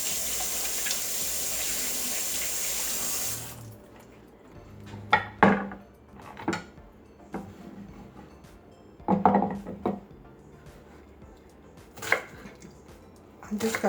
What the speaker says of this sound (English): It's one medium onion, and I'm just going to slice it.